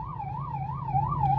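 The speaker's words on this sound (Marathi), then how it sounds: "आम्ही अँब्युलन्स मध्ये सायरन असताना आपला हे असा हाल आहे" An ambulance siren wails in a steady rising-and-falling sweep, loud and close, over a low rumble of traffic as the vehicle sits stuck in a jam.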